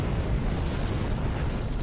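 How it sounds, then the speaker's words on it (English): Video game explosions in Star Trek Online form a dense, continuous rumbling roar of blasts, loud and steady for under two seconds, with no separate distinct bangs. "these explosions are really crazy"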